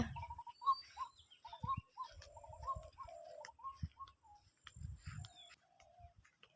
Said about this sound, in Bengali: কি পাখি ডাকছে